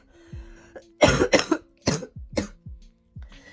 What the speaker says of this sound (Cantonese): 咳極都咳唔到出嚟